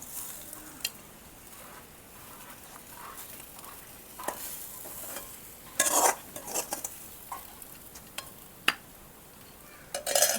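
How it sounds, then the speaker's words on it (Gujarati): Tempering for dhokla sizzles in a pan with a steady soft hiss, broken by scattered utensil scrapes and clinks and a few louder bursts of crackling. "આપણે વઘારાઈ ગયા છે આ ઢોકળા"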